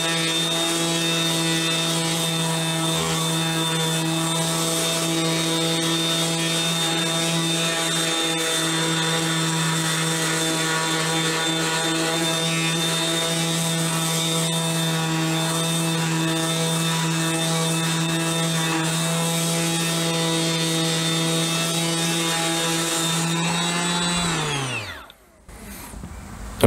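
Ryobi RROS18C brushless cordless random orbital sander running steadily at full speed, a loud continuous whine with strong harmonic hum that holds for about twenty-four seconds before winding down to a stop.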